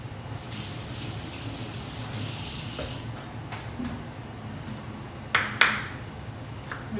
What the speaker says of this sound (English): I'll rinse my onion off.